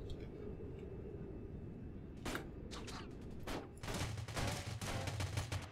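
Gunfire in the video game Rules of Survival: scattered single shots and short bursts, then a rapid flurry of sharp reports, fairly faint over a low background rumble.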